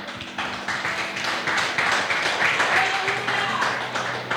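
A church congregation claps together in sustained applause, a dense field of overlapping hand claps at fairly even loudness with a faint murmur beneath.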